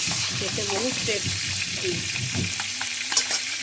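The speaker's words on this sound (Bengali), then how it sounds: "ছোটো করে ভেজে নেবো আমি কাঁকড়াগুলো, মাছের মতন করে" Large crabs frying in hot oil, cut small like fish, give a steady sizzling hiss throughout, with a voice speaking briefly over the frying.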